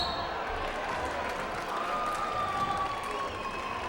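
A packed high school basketball gym crowd at a Wolves versus Vikings game roars and cheers loudly and continuously, a dense steady wash of noise with no breaks.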